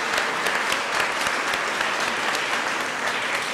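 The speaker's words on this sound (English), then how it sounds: "So let's give yourself a round of applause" An audience of around four hundred people in a packed hall applauds at a College Day celebration, producing a thick, even wash of clapping that stays loud and steady throughout.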